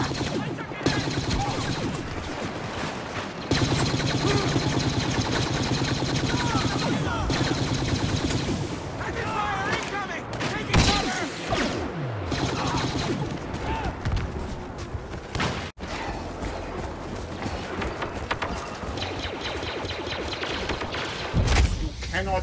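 Rapid gunfire and blaster volleys in a Star Wars Battlefront battle on Xbox One as rebels push on a control point, dense and continuous with thuds and crashes, layered under voices calling out throughout.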